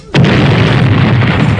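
Cartoon firecracker goes off with a single sudden loud boom followed by a sustained rumbling roar, at New Year celebrations.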